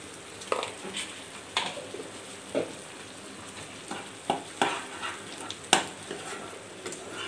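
Frying masala with red chilli and salt for kadai paneer, stirred in a pan over medium flame: a soft continuous sizzle broken by scattered spatula scrapes, close but quiet, without speech.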